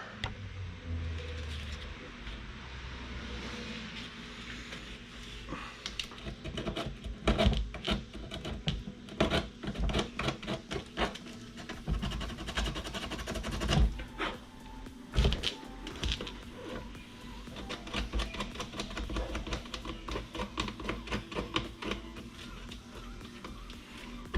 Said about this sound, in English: we'll get most of this one by hand. A little piece of sandpaper.